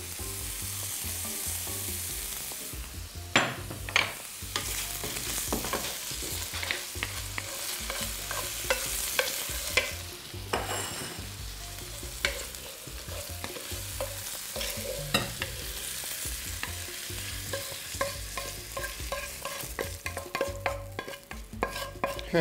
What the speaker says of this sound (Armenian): կբովենք մայրու ընկույզը